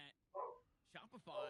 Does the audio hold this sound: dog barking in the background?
yes